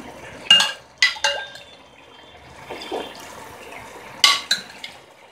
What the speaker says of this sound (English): Give it a stir and leave it to cook.